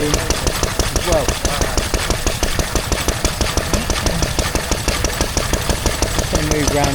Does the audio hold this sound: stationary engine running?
yes